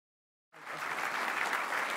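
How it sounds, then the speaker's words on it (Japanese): Reception audience bursts into applause after a brief silence, a sudden onset of dense, even clapping from a large room that holds steady and fairly loud. "挨拶が終わり会場から拍手が送られる中"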